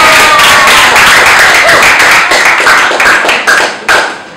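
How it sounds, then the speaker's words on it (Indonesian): A crowd of junior high school students at an Easter sermon in a Jakarta school claps together. The clapping is loud and close, a dense rapid patter that holds steady and then thins out toward the end. "Tepuk tangan dong."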